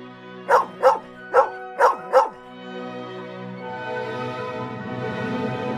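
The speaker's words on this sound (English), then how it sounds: "The dog says woof-woof." A dog barks five times in a quick, steady series, loud and close, followed by a soft, sustained tonal background.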